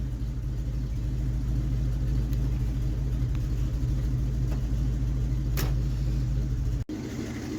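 V8-swapped 1974 Ford Maverick driving, a steady deep engine rumble and drone from inside the car, constant and loud, with a brief dropout near the end before the rumble resumes.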